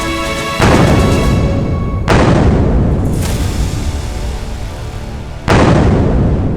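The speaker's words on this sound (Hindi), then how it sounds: "कुछ मिसाइलें रक्षा कवच को चकमा देकर सीधे अपने निशाने तक पहुंच जाती हैं और फिर एक जोरदार धमाका जो पूरे शहर को हिला" Missile strikes on Tel Aviv during an Iranian attack produce three loud, close booms, each a sharp crack followed by a long rumbling decay, after a brief tonal hum at the start.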